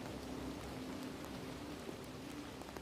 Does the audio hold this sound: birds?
no